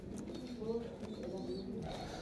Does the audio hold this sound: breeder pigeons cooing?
yes